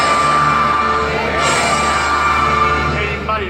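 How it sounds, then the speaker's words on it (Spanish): A crowd of townspeople yells and cheers in a theatrical concert performance, a dense, loud burst of voices with an orchestra beneath. "Y el pueblo, que siempre es muy veleta,"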